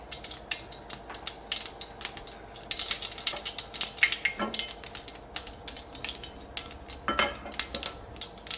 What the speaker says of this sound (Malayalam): ഫസ്റ്റ് നമ്മൾ കടുക് പൊട്ടിക്കട്ടെ